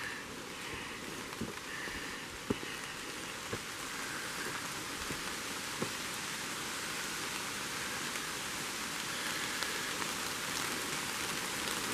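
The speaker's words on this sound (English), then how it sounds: "You can hear it's raining again." Steady rain falls continuously on a mountain trail in Maine, a soft hiss with a few sharper drips and taps scattered through it, no voices.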